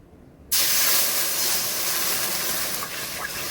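Water from a pot poured into a hot kadai to make sugar syrup bursts into a sudden loud hiss of steam and bubbling that carries on strongly and close by.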